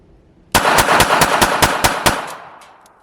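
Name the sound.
Beretta Tomcat 30X .32 ACP pistol firing rapidly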